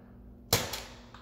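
An Adventure Force Arsenal Eugene toy blaster fires a single sharp pop, close and brief, followed by a quick fading rattle and a faint second tap.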